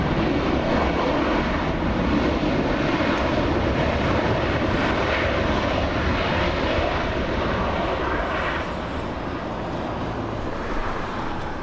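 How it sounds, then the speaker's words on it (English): A Delta Airbus jet airliner flies past at LAX, a loud, steady broadband engine roar that holds strong for about twelve seconds with faint wind noise, no voices. "We have Delta's 2345, a 2-hour flight, small one, Airbus"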